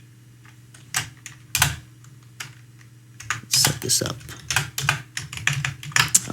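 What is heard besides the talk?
typing on a computer keyboard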